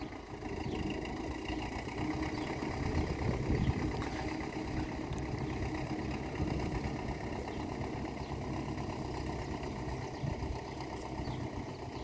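A tractor engine idles steadily at close range outdoors, a constant low rumbling drone lasting throughout with no talking over it.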